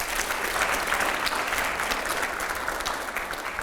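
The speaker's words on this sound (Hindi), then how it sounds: "अगले सवाल के लिए जोरदार तालियां हो यहां पर" Steady applause from a studio audience at a televised interview with Nitin Gadkari and five editors, dense and even throughout with no talk over it.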